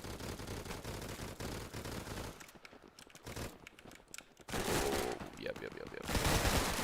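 Video game .30 cal machine gun firing in dense bursts, loud and close, with a short quieter lull before a renewed heavy stretch of gunfire and crackling impacts; a player's voice can be heard at times.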